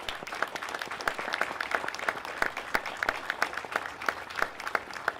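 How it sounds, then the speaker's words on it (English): Audience applause for Colonel Palmer at a university military pass and review ceremony, many hands clapping steadily at moderate distance for several seconds, with no talking. "let's give Colonel Palmer a round of applause."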